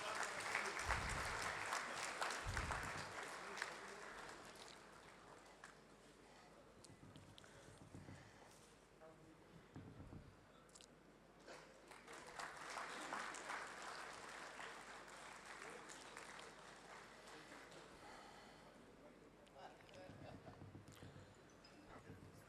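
A seated audience at a chartered accountants' members' meeting applauds steadily for about twenty seconds, a dense wash of claps that swells, fades slightly midway, then rises again before tapering, with faint voices underneath.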